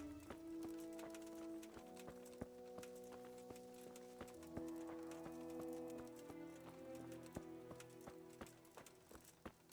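Horse hooves clip-clop steadily in the Kingdom Come: Deliverance video game, a continuous run of regular hoof strikes at moderate distance under a bed of droning game music.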